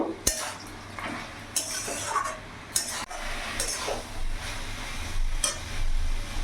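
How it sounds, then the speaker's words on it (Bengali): Fish head and spinach curry stirred in a pan, with scraping and clinking strokes at irregular intervals over a steady low sizzle, close and fairly quiet. "ভালো করে নাড়াচাড়া করে নেব।"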